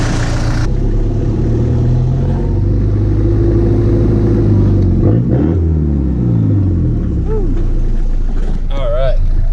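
A Cummins-engined truck with a freshly swapped turbo drives off, its loud, close engine rumbling and revving through gear changes, with brief whistling rises near the end.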